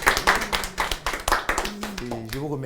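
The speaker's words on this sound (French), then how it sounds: "On va commencer par applaudir pour tous ceux qui ont échoué." An audience bursts into rhythmic clapping that swells and fades, with a voice speaking over the tail end.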